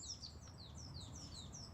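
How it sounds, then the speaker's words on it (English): Morning birdsong in a video game: soft, high chirps repeat in a steady series of short, falling notes over a low, constant background hush. "Soft chirping of birds gradually waking me from my slumber."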